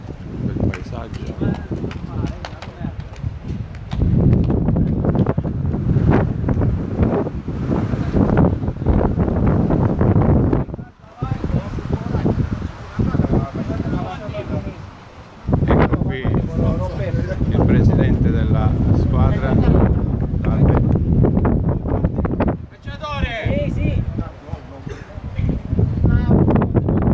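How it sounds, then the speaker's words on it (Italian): Wind gusting across an outdoor five-a-side football pitch, a broad rough rumble buffeting the microphone in long surges with brief lulls, while people chat throughout. "C'è un po' di vento,"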